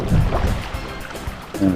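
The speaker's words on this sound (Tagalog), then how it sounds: "Jet ski." A Suzuki jet ski running on the water at a Philippine white beach, its engine drone and splashing spray steady and fairly close, with no talk.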